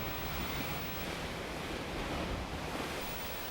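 Steady surf from a rollicking Indian Ocean, a continuous broadband wash of breaking waves with some wind mixed in, loud and even throughout with no voices.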